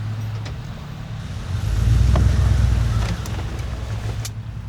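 A truck engine runs steadily at close range, a low rumbling drone that swells in the middle and eases off, with no talk over it.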